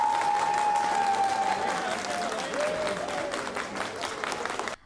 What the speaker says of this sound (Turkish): AK Parti İl Başkanı binası önünde tezahüratlarla karşılanan Mustafa Göksel'i